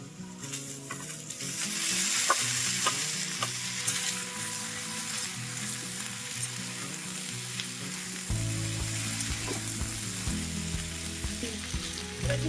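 Tender drumstick stalks hiss and crackle in hot oil with a steady, loud sizzle, broken by scraping stirs and occasional spatters; the frying for aloo posto grows denser midway and carries on throughout without any voices.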